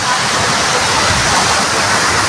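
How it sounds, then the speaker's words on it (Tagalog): Waterfall at a scenic falls reached after a long hike, pouring in a loud, steady broadband roar that fills the scene close up without a break. "Yan yung falls niya."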